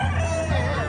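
Chickens and roosters at a Catholic festival in Toraja cluck and crow close by, layered over a busy outdoor crowd murmur with a steady low hum beneath.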